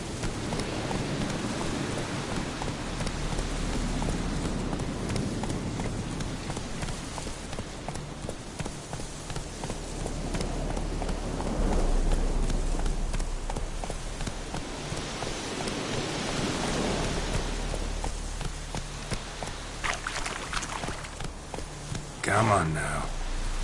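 Roach the horse galloping through rain in The Witcher 3, with a steady clip-clop of hooves under a constant hiss of rainfall, fairly loud, and a voice heard at times over it.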